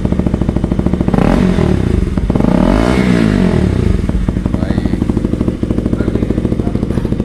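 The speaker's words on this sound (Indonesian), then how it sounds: "Kita dengar bunyi dia." A motorcycle with its exhaust baffle (DB killer) removed and the silencer taken off revs hard close by, with a loud, rough, crackling roar that swells and falls over several seconds of continuous engine noise.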